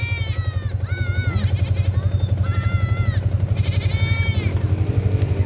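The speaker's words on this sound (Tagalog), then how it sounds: "Umiyak pati kambing." A goat bleats in several drawn-out, wavering calls at a roadside stopover near Kaybiang Tunnel, heard over the steady, close rumble of an idling motorcycle engine.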